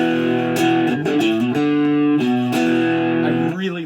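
Three-string cigar box guitar playing a Goin Down South style riff with a straight, slightly distorted tone and a touch of reverb; plucked notes and chord stabs ring out loud and close, alone without talk.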